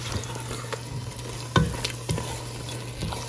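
An omelette cooks in a frying pan with a steady close sizzle, broken by a few soft scrapes and taps of a utensil stirring or nudging the egg.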